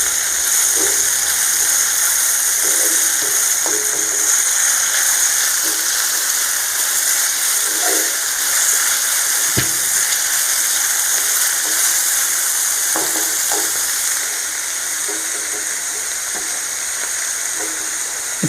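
Bread toasting beside sandwich masala frying on a pan, a loud, constant broadband sizzle running throughout with scattered faint clicks and pops.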